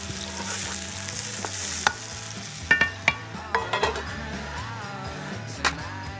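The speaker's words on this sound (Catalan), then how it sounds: "Afegirem els musclos." Mussels go into a hot pan for a mussel bisque: a strong sizzle that settles as a few shells knock and clatter against the metal, with scattered scraping stirs that follow.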